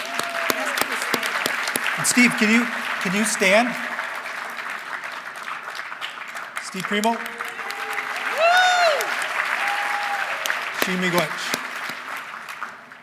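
Audience applause at the 2024 State of the Band address, honoring an artist: sustained clapping from a crowd throughout, with a voice speaking over it on a public address system.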